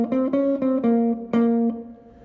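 Several plucked notes from the top five notes of the major blues scale ring out one after another at an even pace, the last one left to decay, for a junior high jazz lesson.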